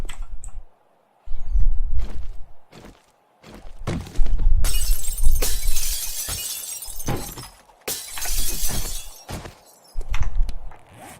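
A glass window smashed in the zombie survival game 7 Days to Die: a loud, bright shattering burst with scattered tinkling fragments, set among several dull thuds and clunks, close and clear with no talk.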